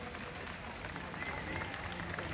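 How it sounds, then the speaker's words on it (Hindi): A crowd claps at an outdoor World Music Day event in Sector 17, Chandigarh, making a dense, steady wash of applause that continues through the whole moment. "एक बार जोरदार तालियां चंडीगढ़ आप लोगों की तरफ से"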